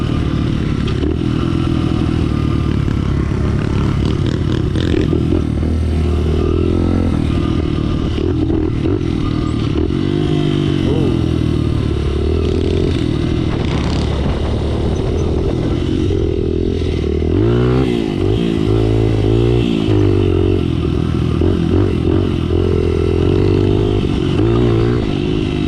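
Pit bike motorcycle engines drone continuously while riding, close and loud, with small revving swells and some clattering, and no talk.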